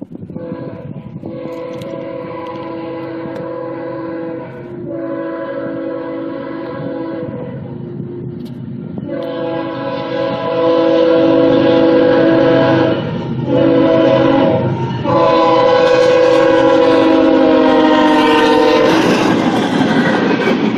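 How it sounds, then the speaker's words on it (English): A CSX freight train passes through Pembroke, North Carolina, sounding its horn in several loud, sustained blasts, with a rumble that grows louder as it approaches. "This is CSX R648 here in Pembroke, North Carolina."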